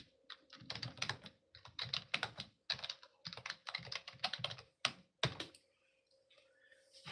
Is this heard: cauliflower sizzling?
no